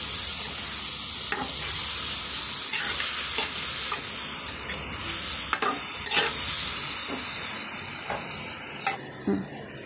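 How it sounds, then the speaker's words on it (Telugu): Food frying in ghee sizzles with a steady, bright hiss while a spoon stirs through it, scraping and clacking against the pan in irregular bursts. No one speaks. "నేతిలో వేయించుకోవాలి బాగా"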